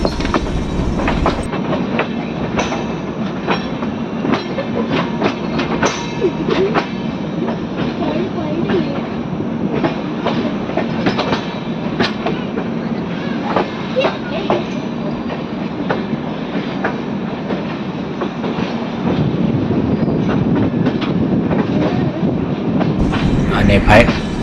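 The Valsad Dahod Intercity Express rolls along the rails with a steady, continuous clickety-clack of wheels over joints and a rumbling carriage throughout, heard from close by.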